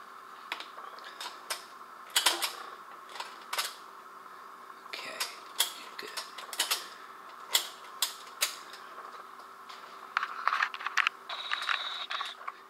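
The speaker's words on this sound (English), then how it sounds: "you can hear the mechanism below engage" A V-M record changer's mechanism below the platter engages in a run of sharp mechanical clicks and ticks, irregularly spaced and close, with quiet gaps between and a brief whirring near the end.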